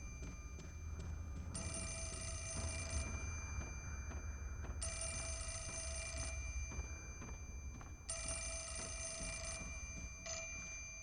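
An old telephone rings in the horror game Project Zero, three long electronic bell bursts with pauses between, over a low ambient drone.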